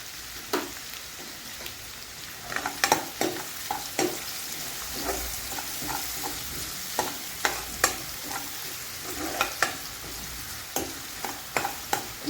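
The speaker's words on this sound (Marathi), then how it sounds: "दोन मिनिटं शिजवून घ्यायचा आपल्याला कांदा." Salted onions fry in a pan for Maharashtrian shev bhaji, a soft steady sizzle broken by frequent sharp scrapes and taps of a spoon stirring, close and fairly quiet, with no talk.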